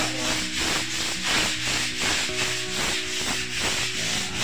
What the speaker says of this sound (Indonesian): Inilah proses pengamplasan sebelum dilakukan pengecatan dinding